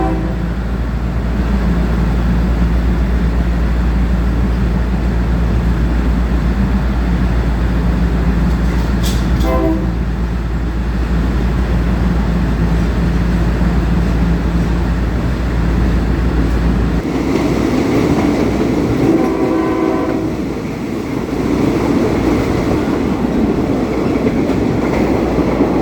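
A passenger train pulls away slowly from a railway market stop in Southeast Asia, its steady low rumble and rolling wheel clatter continuous and close, with a brief horn-like tone midway and rhythmic clicks of the carriages picking up.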